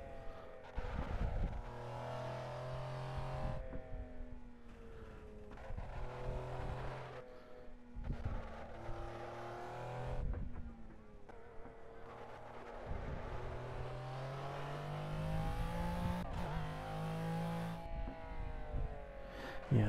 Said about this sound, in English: Absolutely love the McLaren F1 and this GTR longtail version I'm driving.